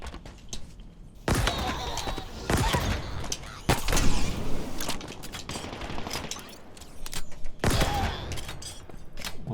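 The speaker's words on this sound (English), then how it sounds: "Rocket launcher." Rocket launcher fire in the Halo Infinite campaign: several loud, booming blasts in quick bursts, each with a crackling tail, over a busy game soundtrack.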